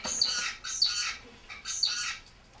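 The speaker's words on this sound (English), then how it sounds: "Here is a song of an isolated zebrafinch." An isolated zebra finch sings alone, a few raspy, buzzy syllables repeated in short bursts with brief gaps between them, close and clear.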